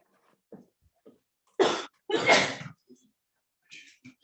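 A single sharp sneeze in two quick bursts, the second longer, in an otherwise quiet room with a few faint background noises.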